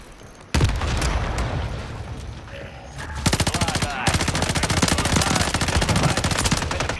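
Rapid automatic gunfire from a video game, loud and close, in sustained bursts with a short pause, then continuous fast-firing volleys over a dense game background.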